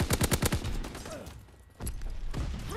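Rapid bursts of automatic gunfire in the video game Call of Duty WW2, a quick volley of loud sharp shots followed by more scattered firing.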